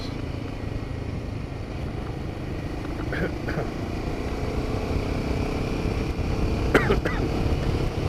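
A Royal Enfield Himalayan 450 motorcycle engine hums steadily at cruising speed in fourth gear around 4,000 rpm, a continuous rumbling drone with wind noise and a few faint clicks.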